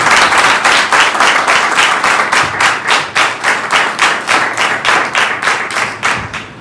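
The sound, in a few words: audience clapping in a church service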